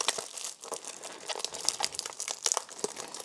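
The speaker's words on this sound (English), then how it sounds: "I could probably just rip this open if I really wanted to" Blu-ray packaging for The Outsiders 4K Ultra HD being torn and ripped open by hand, a close, continuous run of crinkling plastic and crackling wrap with sharp bursts of tearing throughout.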